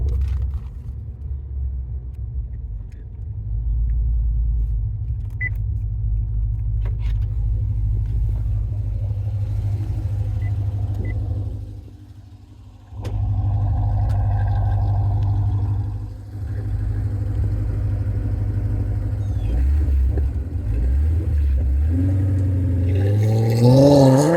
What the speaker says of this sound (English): Man, that exhaust crackle is amazing.